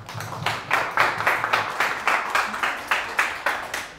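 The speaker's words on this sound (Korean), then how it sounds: "박수로 맞이해 주시기 바랍니다." Clapping from a seminar audience greets a presenter at an NFT event, with distinct rhythmic claps landing about twice a second, fairly close and loud, and no talk over them.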